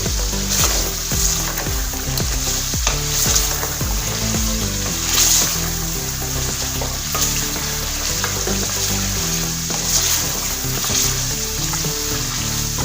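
Mutton paya masala fries loudly in a pan with a close, continuous sizzle and crackle, broken by repeated stirring scrapes. No talking.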